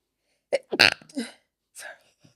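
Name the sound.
sneeze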